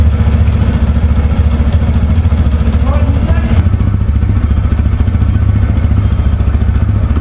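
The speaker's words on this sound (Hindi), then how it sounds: "अब आप इसके इंजन का साउंड सुनिए और इसका" 160cc motorcycle engine and exhaust idling, a loud, steady, close thumping rumble with a regular pulse and light mechanical clatter throughout.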